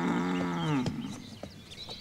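A cow gives one loud, close, drawn-out moo that sweeps downward and ends, followed by a few faint clicks and rustles in a quiet background.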